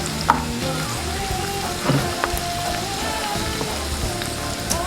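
Salted vegetables sautéing in a pan for brown stewed fish fillet keep up a steady, close, crackling sizzle with a few louder pops and stirring clicks, with no voices.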